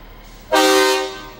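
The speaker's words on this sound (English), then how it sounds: "Holy mackerel, that was a loud horn." A loud vehicle horn at a 4th of July parade gives one sudden, sustained blast lasting about half a second before trailing off, close and alone.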